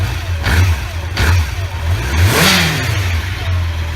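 A 2001 Honda CB750 Nighthawk motorcycle engine runs close by, idling with a low rumble and revving up a few times in short bursts.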